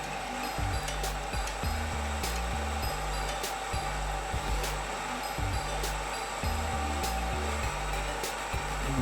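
An embroidery machine stitches a fancy design with black bobbin thread, giving a steady, close mechanical whir with a fast, regular needle-tapping rhythm that runs on unbroken throughout.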